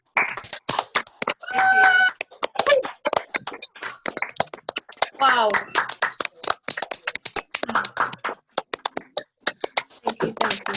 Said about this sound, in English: Can we all get a massive round of applause